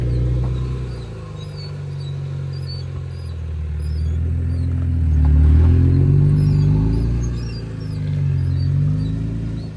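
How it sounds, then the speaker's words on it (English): A Jeep off-roading in the desert with squeaky wheels, a low engine rumble swelling and easing as it crawls, faint high chirping squeaks scattered above. "Sounds like he has hamster wheels underneath his Jeep."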